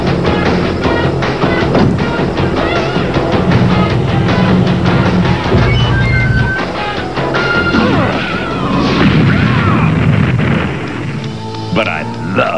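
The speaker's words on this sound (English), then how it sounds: "But I love a good explosion." A cartoon explosion effect crashes and booms amid a busy animated action soundtrack with music and rumbling impacts, loud and dense throughout, with character voices in places.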